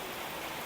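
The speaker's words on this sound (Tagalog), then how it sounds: "So, ayan, bumuhos na yung ulan." Heavy rain pours down in a dense, continuous hiss, steady and enveloping for a brief moment, with no voices over it.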